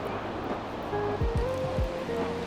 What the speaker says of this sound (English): made it to the base of the waterfall